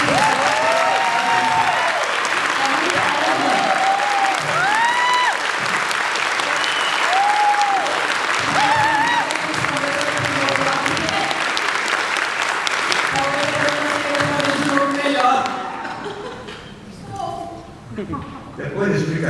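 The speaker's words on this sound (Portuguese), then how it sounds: "Uma salva de palmas, gente." A crowd at a dubbing convention panel gives sustained, loud applause with scattered cheers and voices mixed in, the clapping thinning and fading in the last few seconds.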